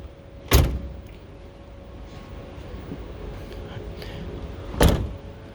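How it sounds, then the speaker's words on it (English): Doors on a Fiat Ducato campervan are shut twice, giving two loud, close thuds about four seconds apart over a quiet, steady background hum. "I will close the doors"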